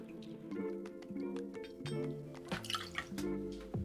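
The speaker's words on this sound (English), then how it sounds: "Next, we're gonna add 3/4 of an ounce of lemon juice." Lemon juice poured into a cocktail shaking tin for a gin drink, a soft, quiet trickle and drip with faint background music.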